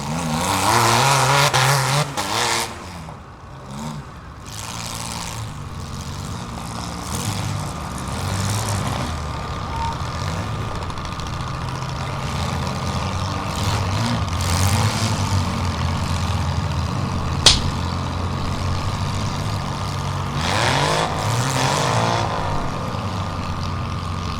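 Compact stock cars rumble and rev around an arena at a winter demolition derby in Long Prairie, Minnesota, with a steady engine drone, surging revs and a brief sharp knock.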